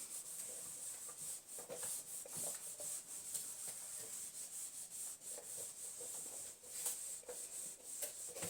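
An eraser rubbing out writing on paper, a quiet, steady back-and-forth scrubbing with fast repeated strokes heard close up and alone.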